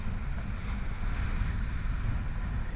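Strong onshore wind and rough surf on a fishing beach, a heavy continuous roar of gusts and breaking waves with loud wind buffeting on the microphone and no pauses.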